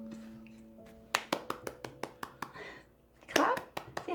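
Hands clap about ten times in a steady, fairly quick rhythm at a child's birthday, close and distinct, following a stretch of talk, with a voice and excited chatter rising near the end.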